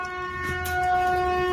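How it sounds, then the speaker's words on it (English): A train horn sounds in a steady sustained chord, with a low rumble of the train passing beneath it, moderately loud and somewhat distant. "Now we got the train."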